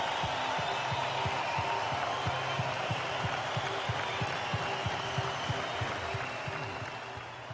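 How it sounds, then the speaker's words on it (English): A large audience applauds in tribute to sportscaster Craig Sager, a dense, sustained roar of clapping that holds steady and then slowly begins to fade. "I'd like all of you to join me in an applause for a great man and a life well lived."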